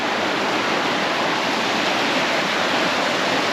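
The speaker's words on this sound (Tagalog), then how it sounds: "ang lakas ng agos." A strong water current rushes steadily at Blarney Castle in Ireland, a dense, close, unbroken roar of flowing water with no voices over it.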